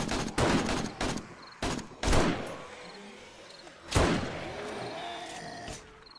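Sniper rifle shots ring out at feral zombies in the survival video game 7 Days to Die, several sharp loud cracks in irregular bursts, each with a short decaying echo, alone without talk.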